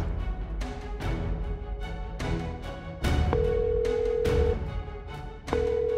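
An outgoing phone call rings out unanswered, a repeated ringback tone pulsing at regular intervals, fairly quiet and alone over soft background sounds.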